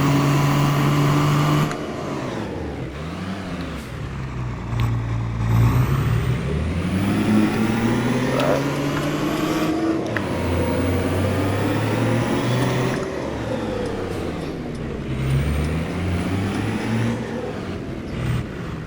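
A truck drives off during property maintenance work, its engine droning loud and close with rising and falling revs as it shifts through gears, plus a brief air-brake hiss near the start.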